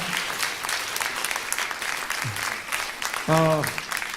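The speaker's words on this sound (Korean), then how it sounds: "우리 뜨겁게 우리 박수를 한번" Steady applause from a church congregation during a Sunday worship service fills the room, a dense clapping wash under brief voices and a short sung or spoken note near the end.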